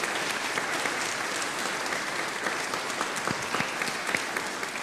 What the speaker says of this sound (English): Would you please join me in clapping and welcoming them?